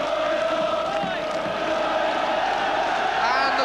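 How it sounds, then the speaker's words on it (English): A large football crowd at a 1983 Portsmouth versus Southend match roars and cheers as the players come out, a loud, sustained swell of massed voices filling the stadium. "And the cheer tells you that the players are now out to appear."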